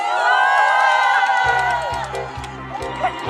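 A crowd cheers and whoops at a night outdoor concert by the Pohang canal, a steady roar that continues as a band's rhythmic drum beat kicks in halfway through.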